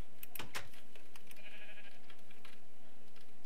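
Minecraft sheep bleat in a few short wavering calls near the start, followed by softer scattered game sounds, with no talking.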